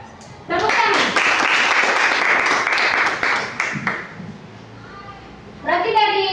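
A classroom of children applauding, a burst of hand clapping lasting about three seconds that fades out, followed by a voice.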